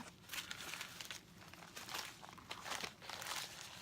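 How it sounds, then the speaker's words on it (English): A fidget spinner's plastic package being opened up close, with repeated bursts of loud crinkling and rustling plastic in uneven handling rhythm. "I'm going to open up this other package"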